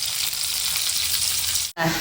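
Onions go into a hot pan for a home-cooked meal and fry with a loud, steady, close sizzle that breaks off for a moment near the end.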